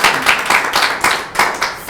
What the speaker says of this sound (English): A hand of applause for Maureen